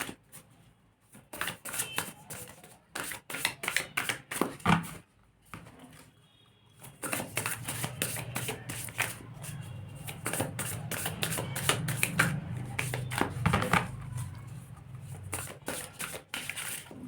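Tarot cards are shuffled in quick bursts of crisp riffling and flicking, close and fairly quiet, with a brief pause midway before a longer, steadier run of papery shuffling.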